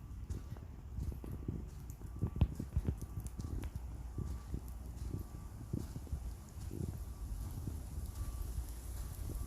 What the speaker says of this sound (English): Oh, that wind is really chilly today.